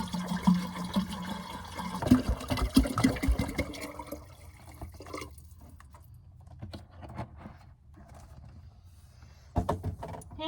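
Water pours into a cooler in a van at a Walmart parking lot, a steady rushing fill for a few seconds, then quieter trickling and clunks, with another short splashing burst at the end.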